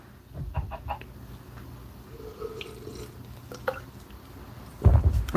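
Minecraft chickens cluck softly in short scattered bursts over a quiet background with drip-like ticks, ending in a sudden loud low thump near the close.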